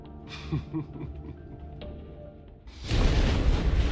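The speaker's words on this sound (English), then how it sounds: "An explosion with fire is my guess." Explosion with fire in the game Resident Evil 3: after quieter rumbling game sounds, a loud, broad blast erupts and roars on steadily to the end, fairly close.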